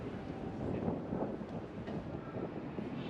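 Steady wind buffets an outdoor microphone at Odaiba, Tokyo, a broad low rumble that persists throughout with no talking.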